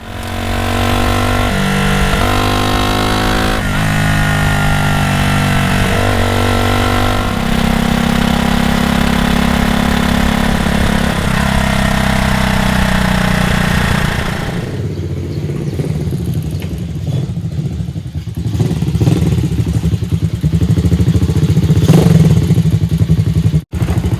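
A Honda SS100 V-twin motorcycle ridden at speed: a loud, close engine drone rising and falling through gear changes, then easing to a lower, rougher note with wind buffeting.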